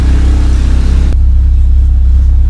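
A car engine idles loudly with a throbbing, rough low rumble from a leaking lower exhaust muffler, its tone dropping partway through as the revs settle.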